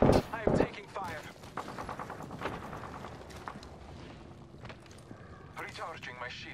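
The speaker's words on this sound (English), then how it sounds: "I am taking fire." Bursts of enemy gunfire in the Apex Legends battle royale shooter, sharp cracks at the start and then scattered shots, mostly under a character's spoken voice lines.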